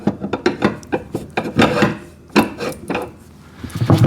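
An axle slides through the wheel mount of an Albott electric auto-feed drain cleaner machine, making close, repeated scraping and rubbing strokes in an uneven rhythm.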